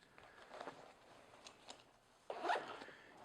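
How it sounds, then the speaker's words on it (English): A quiet zipper on a hunting backpack's outer pocket being pulled in short soft strokes, followed by one longer, louder zip near the end. "The zippers are pretty good on this, pretty good and quiet."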